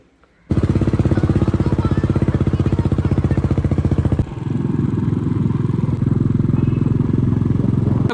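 A motorcycle engine drones loud and steady close by, with a brief dip partway through as it rides along the road.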